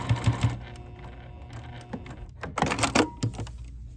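A Juki TL sewing machine runs a quarter-inch seam, its needle tapping in a quick rhythmic patter with a few short bursts and clicks, close and fairly loud.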